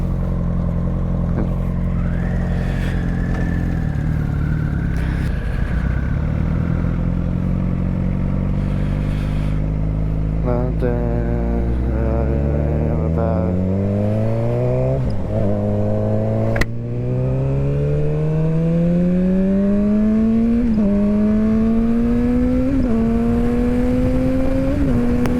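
A Harley-Davidson Sportster 1250cc motorcycle is ridden past and away, its engine note rising through several gears with repeated climbing pitch sweeps and brief drops at each shift, loud and continuous, with wind and road noise.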